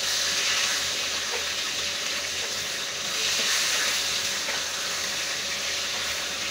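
Fish frying in a pan, a loud, dense, steady sizzle and hiss close up, with the crackle swelling slightly as the pieces are turned.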